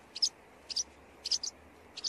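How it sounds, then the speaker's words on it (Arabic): Eurasian wren calling in a series of four short, high chirps spaced about half a second apart, faint and at a distance over a quiet low hum. "الاسم بالعربية طائر البسبوس أو طائر السميريس أو طائر السورة"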